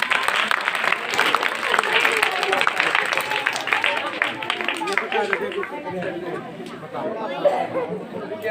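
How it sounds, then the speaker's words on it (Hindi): Audience applause at a live magic show, a dense, steady patter of many hands mixed with crowd chatter and voices, fairly loud throughout and thinning slightly toward the end. "मैजिक अच्छा लगे तो साथ में तालियां जरूर बजाइए"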